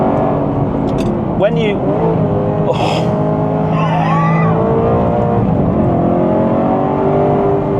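Alfa Romeo 8C V8 engine pulling hard on a twisting road, a deep continuous drone with rising revs and throttle swells. Someone talks over it throughout.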